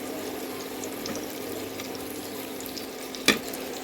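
Vegetables fry in a pan with a soft, steady sizzle and a faint bubbling. A single sharp clack of a utensil stands out near the end.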